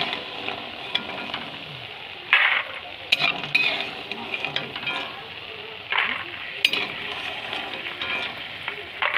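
Pieces of pumpkin bori (sun-dried lentil dumplings) frying in hot oil, with a steady close sizzle interrupted by louder spatters and metallic clinks of a spatula against the pan as they are lifted out.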